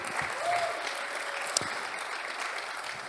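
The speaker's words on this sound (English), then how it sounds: "let's go ahead and clap for Carrie" An audience applauds for Carrie, a neighbour, at a talk on hospitality, with steady, dense clapping that holds at an even level for the whole stretch and no voices on top.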